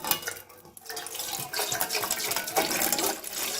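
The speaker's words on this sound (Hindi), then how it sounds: "सबसे पहले मैंने एक पतीली ले ली है, इसके अंदर मैं 2 कप पानी की ऐड करती हूँ।" Two cups of water pour into a cooking pot for green tea, a continuous splashing, gurgling stream that varies in strength, close and fairly loud with no talking.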